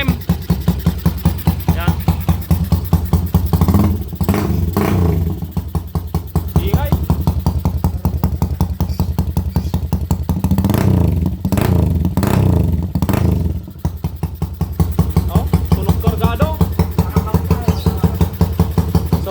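A Honda TMX155 motorcycle engine converted to 210cc, with 32mm carburetor and 6.5 cams, idles with a loud, close, lumpy throb and rises in several revving bursts, with talk over it.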